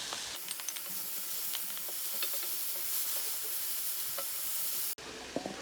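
Two mushrooms hit a hot pan while cooking a seafood pastilla, giving a steady close sizzle with scattered crackles and stirring scrapes throughout, then an abrupt drop near the end.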